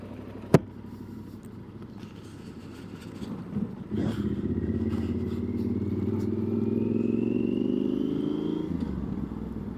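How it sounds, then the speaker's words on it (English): Engine drone of a Yamaha XT1200Z Super Tenere motorcycle on the move, a steady mid-volume hum that rises in pitch as the bike accelerates, with a sharp knock near the start and wind rush throughout. "don't you just love being on a bike?"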